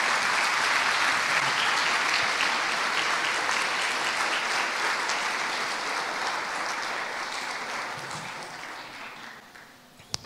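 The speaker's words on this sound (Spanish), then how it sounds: "te queremos mandar este aplauso de bienvenida" A church congregation applauds in welcome during a Sunday service, with dense, steady clapping that fills the room for about ten seconds and slowly fades toward the end.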